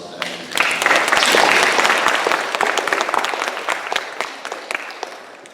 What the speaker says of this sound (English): let's go ahead and just give our panelists one more round of applause